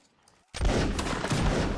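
A sudden loud burst of massed musket volley fire in the video game Mount and Blade Warband Napoleonic Wars, a dense crackle of overlapping shots breaking in after a near-silent moment.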